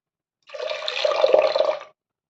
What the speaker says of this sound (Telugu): ఒక కప్పు పెసరపప్పు నీట్గా క్లీన్ చేసుకుని 2 కప్పులు వాటర్ వేసుకోవాలి